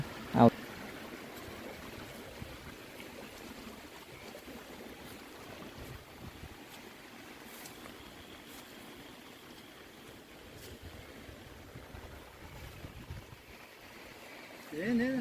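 Faint floodwater rushes steadily across submerged farm fields after a storm, with wind buffeting the microphone and a few soft knocks near the start and end.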